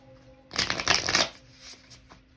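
A deck of tarot cards is shuffled in one quick riffling burst lasting under a second, close and crisp, then a softer flick as cards are drawn; no talking.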